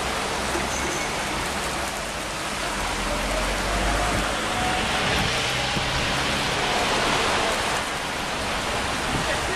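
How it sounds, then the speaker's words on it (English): A sudden, intense London rainstorm pours down as a dense, steady roar of rain hitting surfaces, loud and close, with no break for nearly ten seconds. "My hunt has been briefly interrupted by a sudden intense rainstorm."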